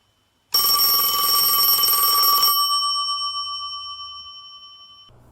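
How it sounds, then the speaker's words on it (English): A telephone bell rings in one loud, continuous metallic burst lasting about two seconds, then its tone decays and hangs in the air for several more seconds, with no other sound. "His phone rang, but he ignored it."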